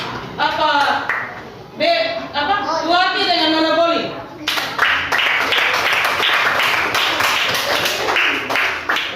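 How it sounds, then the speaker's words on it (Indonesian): Classroom students clap for a girl after she works at the board, a dense burst of hand claps that follows a teacher's spoken line and keeps going to the end. "tepuk tangan untuk Nona"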